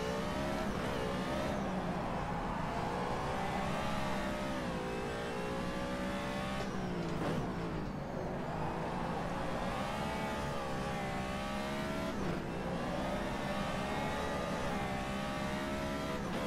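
A Nissan Hakosuka racing in the rFactor 2 simulator gives a loud engine note that revs up and drops back repeatedly through the gears, with occasional tyre noise and no talk.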